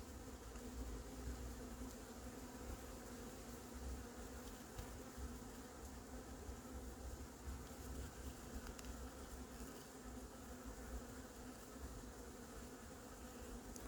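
Honey bees buzz at apiary hives on an island bee yard, a dense, steady swarm drone that holds unbroken throughout, close and even in level, with no voices.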